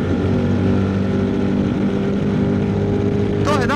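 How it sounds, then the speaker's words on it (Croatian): Aftermarket exhaust of a QJ Motor SRT 800 motorcycle idling up close: a loud, steady, deep throbbing rumble that holds evenly, with a brief higher warbling sound at the very end. "To je dakle auspuh"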